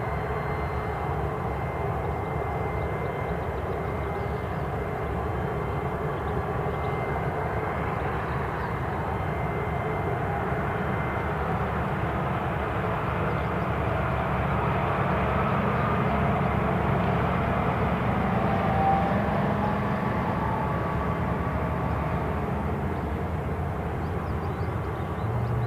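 An ASL Airlines freighter aircraft arriving from Edinburgh at Newcastle airport produces a steady, loud engine roar that holds broadband and unbroken for the whole stretch, with no talking over it.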